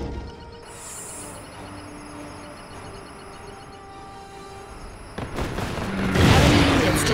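Airstrike explosions in the real-time strategy game Red Alert 3 during a battle in Amsterdam, a steady rumble of battle noise building into a loud, dense burst of blasts near the end.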